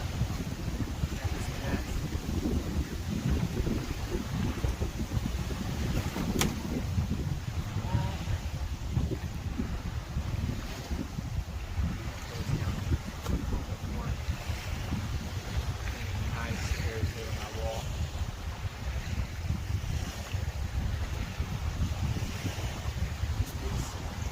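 Wind gusts across an island outdoors, a continuous rough buffeting roar against the microphone for the whole stretch, with waves and surf faintly beneath.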